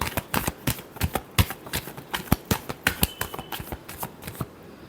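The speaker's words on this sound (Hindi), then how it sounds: "Last shuffle." Tarot cards are shuffled by hand in a quick run of crisp riffling snaps and slaps, close and loud, with no voices during the shuffle.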